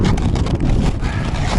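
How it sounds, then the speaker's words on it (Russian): Strong wind gusting through taiga forest, a loud continuous roar buffeting close to the microphone with no let-up across the whole stretch. "Вообще сегодня ветрено, очень сильный ветер."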